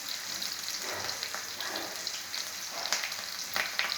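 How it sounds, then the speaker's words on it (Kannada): Curry leaves and onion fry in a pan, a soft, steady sizzle broken by occasional crackles and the scrape of stirring, with no voices. "ಕರಿಬೇವು ಹಾಕಿ, ಈರುಳ್ಳಿ ಹಾಕಿ ಫ್ರೈ ಮಾಡ್ತಾಯಿದ್ದೀವಿ"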